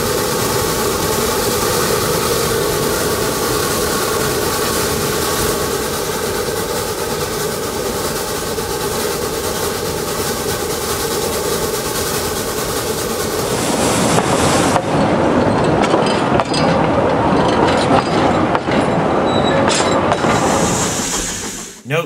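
Narrow gauge steam locomotive Dixiana runs at Roaring Camp in 1964, a loud, steady mechanical roar with a rumbling drone, then a shift to a harsher, noisier wash near the end before it cuts off.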